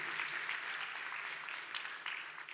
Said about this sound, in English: applause to Amway India.